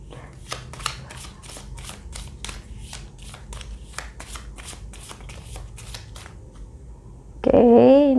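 Tarot cards are shuffled in a rapid series of crisp, close riffling bursts, followed at the end by a brief spoken voice.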